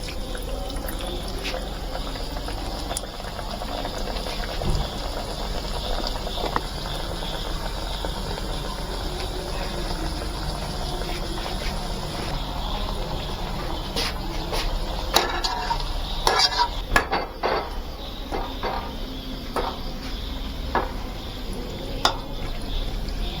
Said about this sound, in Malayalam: ഇനി നമുക്ക് ഇത് എണ്ണയിലിട്ടൊന്ന് പൊരിച്ചെടുക്കാം.